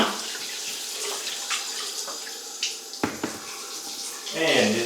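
Shower water runs steadily in a steady broadband hiss, with splashes and shifting spray changes as someone moves under it; a voice is faintly audible at times.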